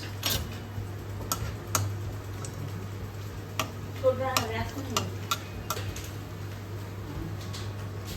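Bay leaf, cinnamon and four small cardamom pods frying in about 250 ml of oil, a quiet sizzle with scattered ticks and stirring clicks over a steady low hum.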